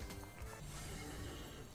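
Horse neighing and clip-clop hooves from a slot machine video game play continuously over a dense backing of game music and effects, loud throughout.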